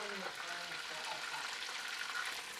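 Lamb chops browning in a Dutch oven give a steady, close sizzle and crackle with no break, a few faint voices mixed in beneath the frying.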